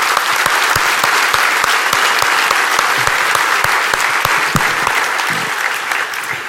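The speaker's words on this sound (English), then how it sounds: "I'd like to ask for a round of applause for the volunteer organization and our review board who worked all year for this." Loud, dense audience applause fills a large hall at a security conference keynote, sustained clapping that tapers slightly toward the end.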